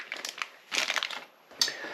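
Packaging around a USB red dot sight for a crossbow crinkles and rustles as it is unwrapped, in a few short, close bursts of crumpling separated by brief quiet.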